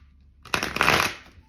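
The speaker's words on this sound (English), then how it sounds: "I'm being called to shuffle." A deck of cards is shuffled once, a short riffle that swells into a quick flutter of crisp paper clicks and dies away, fairly close and quiet, with no talking.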